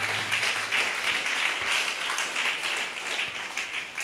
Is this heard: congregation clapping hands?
yes